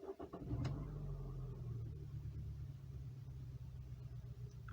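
A Peugeot engine cranks briefly on a cold start, catches, and settles into a steady low idle rumble, fairly quiet and close.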